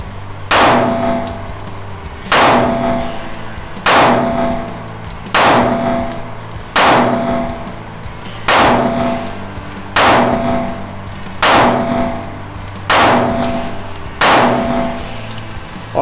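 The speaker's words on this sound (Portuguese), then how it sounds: "A arma está pronto, quente, pronto para o disparo. Vamos executar o disparo, pessoal." A Taurus G2C 9mm pistol fires at a shooting range, giving about ten loud, sharp single shots at a steady pace of roughly one every one and a half seconds, each with a ringing tail and no talking.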